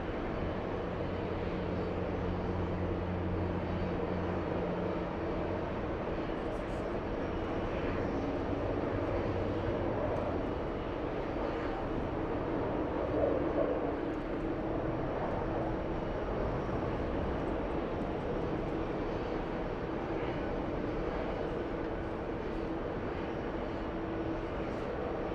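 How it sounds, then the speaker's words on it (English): Delta airliner on final approach, inbound from Los Angeles, its broad engine roar holding steady and loud throughout with a low rumble beneath, no voices. "To the big one on final approach, we have Delta's 939 flying in from Los Angeles"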